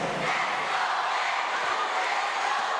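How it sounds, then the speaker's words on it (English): Arena crowd of close to 7,000 at a women's volleyball match cheers steadily, a dense continuous roar of voices from both sides of fans holding level throughout. "Fans of both sides cheering on their respective choices."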